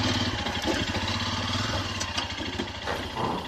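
Royal Enfield Himalayan motorcycle engine running after a cold night outdoors, a steady thumping single-cylinder idle heard up close with no one speaking.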